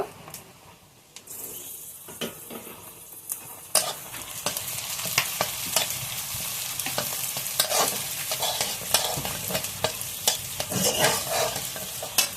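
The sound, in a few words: whole spices frying in oil with stirring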